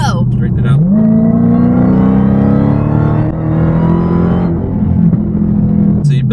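Dodge Hellcat accelerating hard on an autocross course, a loud, deep engine roar rising in pitch and holding near, with brief dips between gear changes.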